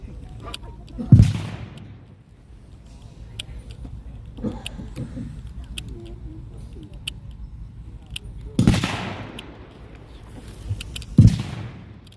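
Artillery firing on German positions sounds as three heavy, widely spaced booms over a low rumbling background.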